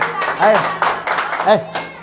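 Two sharp hand claps about a second apart, loud and close, ringing under a teacher's voice speaking over them.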